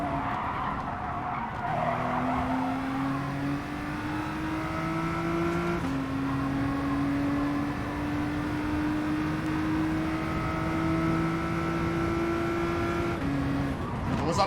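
A race car in Gran Turismo Sport, racing in a BTCC championship round at Interlagos, holds a steady engine drone that climbs through the gears, with tires squealing and skidding. A brief gear change breaks the note midway, and a voice talks faintly underneath.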